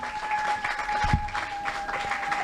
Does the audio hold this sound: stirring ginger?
no